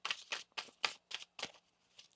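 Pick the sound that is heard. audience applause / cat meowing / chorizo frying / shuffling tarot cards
shuffling tarot cards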